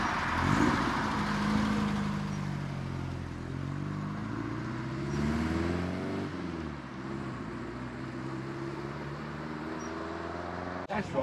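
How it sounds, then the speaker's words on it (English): VW camper van rolling into a car meet, a close engine drone with shifting pitch and a low rumble under outdoor background noise, fading slightly toward the end. "as a VW camper rolls in"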